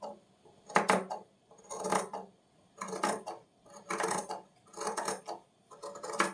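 Scissors cut through the fabric of an elbow-length sleeve to shorten it, giving six rhythmic crunching snips about a second apart, close and fairly quiet, with no talking.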